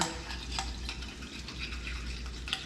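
Catfish with garlic and lemon juice stirred in a pan, giving a soft, continuous wet scraping and sizzle, close and fairly quiet, with no talking.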